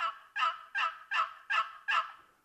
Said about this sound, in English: I'm going to show you how to do the basic yelp with a box call.